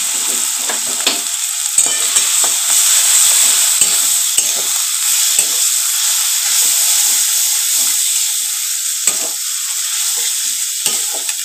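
Spices frying in a pan for goat head curry sizzle and hiss steadily after water is poured in, a loud continuous steamy crackle with occasional stirring scrapes.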